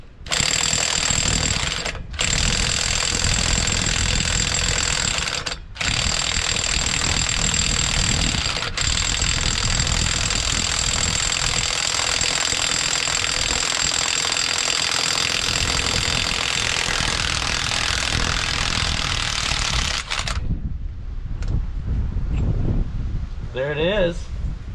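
Impact wrench hammering loudly at lug nuts on a Ford L9000 truck, long continuous bursts broken by short pauses, then a quieter stretch near the end with voices talking.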